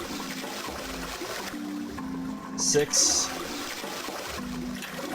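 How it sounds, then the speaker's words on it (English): Toilet flushing in the video game 999: 9 Hours 9 Persons 9 Doors, a short rushing gurgle of water that rises briefly and stops, set against low background music, with a voice speaking. "Heard a lot of flushing noise."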